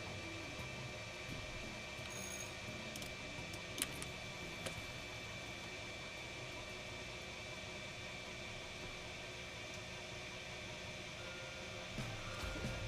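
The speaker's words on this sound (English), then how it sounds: "Yes, that is the 3D printer." A 3D printer whines steadily in the background, a constant faint hum with a few soft ticks, at low level and with no talk.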